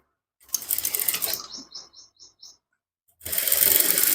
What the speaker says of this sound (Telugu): ఈ విధంగా కుట్టేసుకోవాలి. అలాగే డబుల్ స్టిచ్ వేసుకోవాలి.